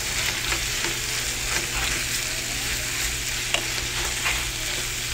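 Sri Lankan curry with thick coconut milk simmers and sizzles in a pan, a steady bubbling hiss throughout with a few faint stirring clinks, close and without speech.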